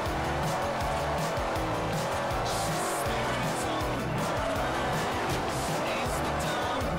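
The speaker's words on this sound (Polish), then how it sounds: "Dobra, spróbujmy zadriftować" A car drifting in the Forza Horizon racing video game, loud continuous engine roar with drawn-out tire squeal and skidding throughout, close and dense.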